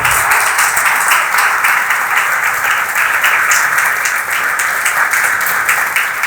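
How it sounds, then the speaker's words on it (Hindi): A church congregation at a Pentecost sermon claps loudly and continuously, a dense, steady wall of applause from many hands that fills the space without pause. "तालियां बजाते हुए जोर के साथ"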